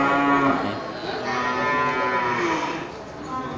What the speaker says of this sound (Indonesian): Kategori sapi untuk penggemukan.